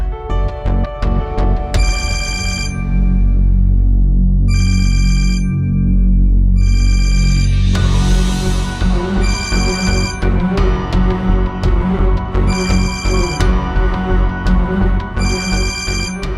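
A telephone rings in repeated bursts with short pauses, loud and close, over a steady low background during a drama scene.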